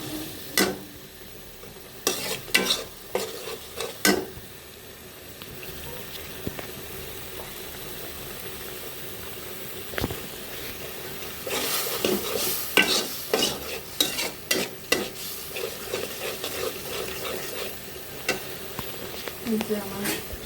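Food frying in a pan is stirred and mixed during a home-cooked lunch, with repeated scraping strokes coming in bursts over a steady low sizzle, close and moderately loud.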